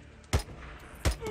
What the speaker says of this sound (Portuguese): Estão atirando.